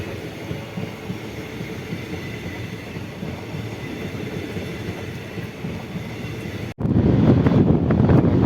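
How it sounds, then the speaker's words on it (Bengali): A windowless automobile carrier train rolls past near Buxa Tiger Reserve forest, a sustained low rumble of wagons and wheels that swells suddenly louder and closer near the end. "একটা অদ্ভুত টাইপের ট্রেন যাচ্ছে, যার কোনো জানলা নেই, কিছুই নেই, কোনো অটোমোবাইল ক্যারিয়ার।"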